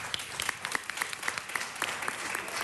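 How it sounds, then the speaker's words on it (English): Applause from the audience at a city council meeting, a steady patter of many hands with a few sharper individual claps standing out, moderately loud and continuous through the short stretch. "Let's give her another round of applause."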